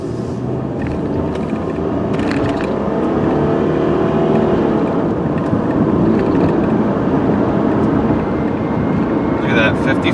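A 2000 Honda Odyssey minivan drives steadily along a road at about 55 mph, a constant rumble of engine and tire noise filling the clip, close and fairly loud, with a person speaking over it.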